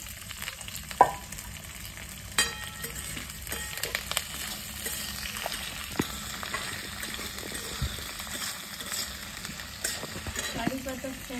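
Raw onion fries in a pan with a steady low sizzle and crackle, with a few sharp clicks and scrapes of stirring close by.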